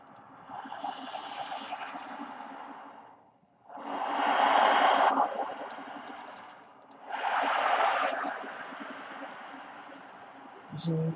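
An ocean drum rolled by hand sends beads washing across its skin in three long surges, each swelling and fading like a breaking wave, separated by brief quieter gaps.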